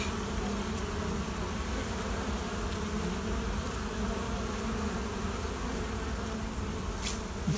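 Honeybees among the last flying bees of the year, buzzing steadily near a beehive late in the season; a continuous, fairly loud hum of many bees lasting throughout, with no one talking.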